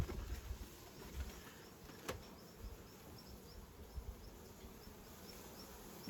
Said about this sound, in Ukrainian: Ой, бджоли скільки багато.